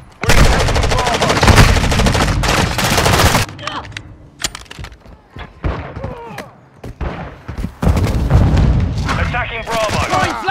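Heavy Call of Duty Modern Warfare II gunfire, loud and close, with sustained automatic bursts, sharp single shots and thuds, and radio-style callouts and chatter between the volleys.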